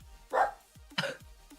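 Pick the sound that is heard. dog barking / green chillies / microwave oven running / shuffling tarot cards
dog barking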